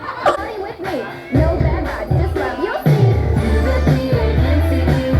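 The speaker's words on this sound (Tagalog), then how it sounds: "bakit po ang lakas ng sigaw nyo?" Children at a 7th birthday party shout together loudly, overlapping shrieks and yells from a close crowd, with chatter and an adult voice mixed in.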